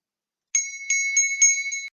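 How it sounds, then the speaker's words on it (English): A small bell taken from a Christmas tree rings in five or six quick, bright, shimmering strikes over about a second and a half, clear and close with nothing else around it. "every time a bell rings, an angel gets his wings"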